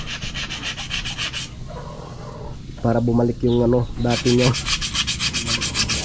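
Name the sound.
sanding wood with sandpaper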